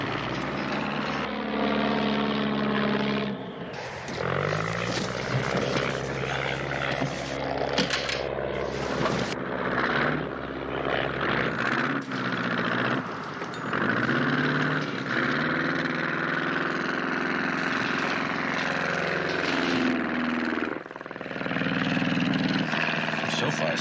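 A propeller aircraft drones loudly and steadily in flight before landing, its engine rising and falling in pitch, with people talking over it throughout.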